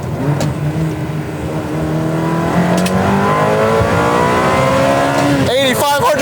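Ferrari 360 engine downshifting with a throttle blip, a loud close-up rev that rises and falls, with a sharp blip and crackle near the end, steady and dominant throughout.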